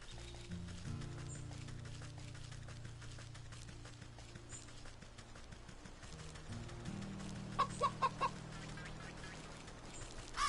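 Turkeys in the video game Wytchwood, clucking and gobbling fowl calls over sustained game music, with a brief burst of quick calls near the end.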